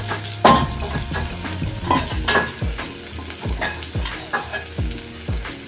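Fried okra tipped into a sizzling masala pan for a bhindi dish, steady frying hiss with a sharp clatter as it lands, then repeated scraping stirs and utensil knocks against the pan, close and fairly loud, no talking.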